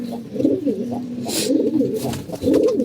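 Domestic flying pigeons in a loft coo close by, a repeated rolling series of low throaty calls with a short rustle of wings partway through.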